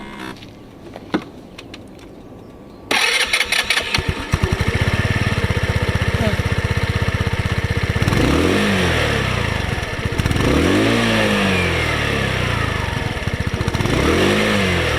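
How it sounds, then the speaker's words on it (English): A Lexmoto Enigma 125cc moped engine starts after a few seconds of quiet, settles into a loud, close idle, then revs up repeatedly in rising and falling surges. "I'm just going to start the bike for you now and show you the exhaust and the sound of it."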